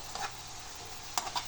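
Mushrooms cooking in a pan for a cream-sauce dish, giving a faint, steady sizzle with a few soft stirring clicks near the end.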